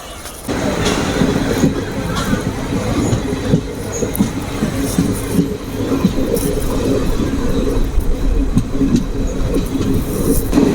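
A Mysore–Sengottai special express train pulls out of Sivakasi station, with a steady loud rumble of wheels and carriages and a continuous clatter and rattle throughout.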